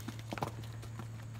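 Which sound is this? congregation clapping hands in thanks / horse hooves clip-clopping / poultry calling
horse hooves clip-clopping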